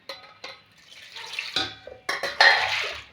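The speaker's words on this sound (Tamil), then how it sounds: "நல்லா 1 லிட்டர் தண்ணிட்டு ஊற்றிக்குவோம்." About a litre of water splashes and pours into a pot in a few bursts while making crab soup, with clinks of metal, close and fairly loud, no speech.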